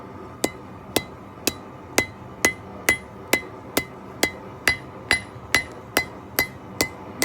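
Metal being hammered during blacksmith forging, with about fifteen sharp, evenly spaced ringing strikes at a steady rhythm, close and loud, and no voices.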